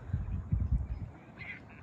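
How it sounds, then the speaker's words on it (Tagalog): Ducks in a park quack in a busy low cluster during the first second, then grow sparser, with a faint higher call near the end. "Ayan yung mga pato."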